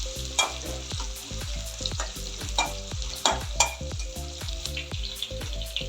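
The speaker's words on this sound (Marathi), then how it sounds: "थोडंसं हा तांबूस रंगाचा होतं त्याला परतून घ्यायचं।" Onion and garlic paste sautéing in a pan, a constant sizzle under rhythmic scraping and tapping of a spoon against the pan, with repeated clinks in a steady stir pattern and no talking.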